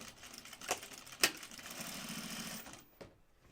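A sewing machine runs in a steady, moderately quiet stretch, edge stitching along the seam of a bag flap, with a couple of sharp clicks early on before the motor stops near the end.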